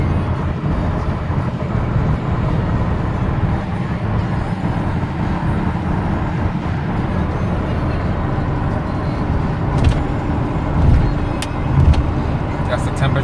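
Cabin sound of a 1986 Mercedes-Benz SL560 cruising at about 60 with the engine near 2,000 RPM: a steady low road and engine drone with wind noise, continuous throughout.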